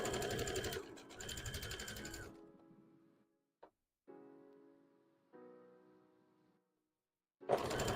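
Sewing machine stitching stripes through layers of hat fabric, two quick bursts of stitching that slow and wind down, then brief clicks and short mechanical runs before another burst at the end.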